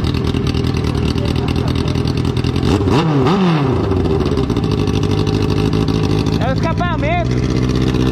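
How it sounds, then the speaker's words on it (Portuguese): A BMW F800 motorcycle engine with a straight-through exhaust idles loudly up close, then revs sharply twice in quick succession; later a few quick throttle blips rise and fall, with voices underneath. "O som desse escapamento é diferente"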